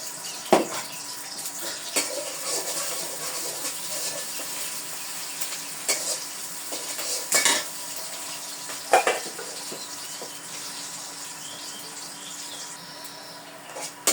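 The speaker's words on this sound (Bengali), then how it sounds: "বাগার এসে পরে মিষ্টি লাউ ভাজি দিয়ে দিলাম" Sweet pumpkin pieces fry in oil in a wok with a continuous hissing sizzle, while a spatula stirs and scrapes at intervals and a few louder clatters stand out.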